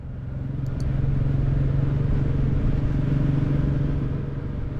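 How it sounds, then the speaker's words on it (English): Royal Enfield Classic 350 with a J-series single-cylinder engine running through its stock silencer, a steady close, loud low thump at an even idle-like rhythm that holds throughout. "So following Bob, I'm reminded how nice the stock silencer sounds."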